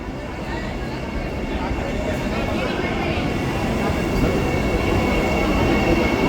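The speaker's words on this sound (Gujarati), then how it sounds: "ફાઇનલી ટ્રેન આવી." A Vande Bharat express train pulls into a station, a steady loud rumble of wheels and carriages that builds slowly, with people talking nearby on the platform.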